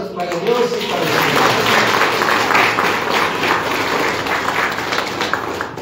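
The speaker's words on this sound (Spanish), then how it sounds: "Aplausos para Dios y para Dios." A congregation claps during a Catholic mass in a chapel of the patron saint Apóstol Santiago, a dense, loud, continuous round of applause that swells and then holds steady, with voices faintly underneath.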